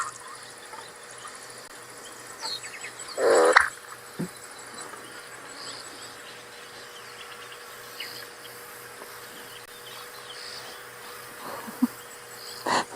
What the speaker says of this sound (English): Here comes the unusual bird call.